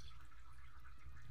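Water pours steadily into a pot of pork hocks (pata) cooking in Sprite for Filipino humba, a continuous close splashing stream that runs unbroken with no talking.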